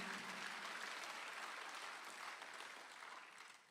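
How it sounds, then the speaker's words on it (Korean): Congregational applause during a Sunday afternoon church service, a steady broadband wash of many hands clapping that stays even, then gradually thins and softens toward the end. "박수 한번 주세요."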